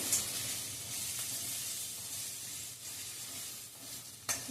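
Crushed ginger and green chili paste sizzling and frying in a pan for spiced masala rice, a continuous close hiss with occasional stirring scrapes.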